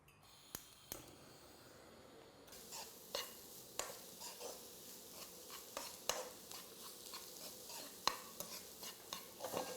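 Curry ingredients stir-fried in a pan, the stirring coming as quiet intermittent scrapes and clacks over a faint low sizzle; after a near-silent opening the scraping turns steady and soft.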